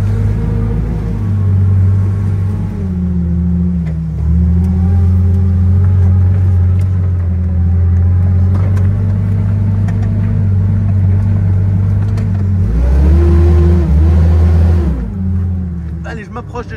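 Tractor pulling a seed drill for wheat sowing drives toward the platform, a loud steady diesel engine rumble close by with a brief rev and drop near the end.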